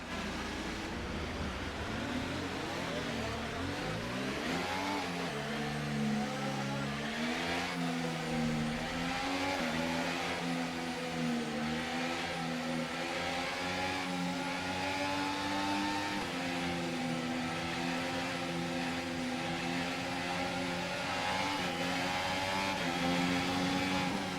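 Race cars accelerating as a field in a racing video game's career mode, a dense, continuous roar of many engines with rising and shifting revs throughout, loud and steady with no voices over it.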